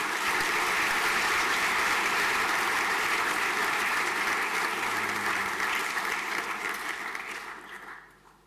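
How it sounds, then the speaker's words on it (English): A school hall audience at a senior prizegiving claps for a prize winner, a loud, even wash of applause that holds steady before fading out toward the end. "A round of applause, please."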